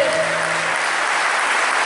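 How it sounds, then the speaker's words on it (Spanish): A festival audience applauds at the 30th National Guitar Festival, a dense, steady wash of clapping filling the whole moment, with a faint held tone underneath at the start. "¡Fuerte los aplausos! ¡Fuerte, fuerte, fuerte!"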